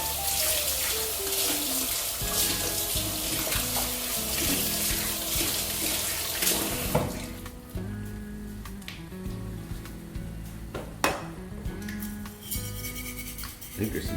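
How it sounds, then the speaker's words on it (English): Hands are washed under a running kitchen sink tap, a steady close stream of water splashing and gurgling into the basin, with slight changes as the hands move through the flow. "I wash my hands"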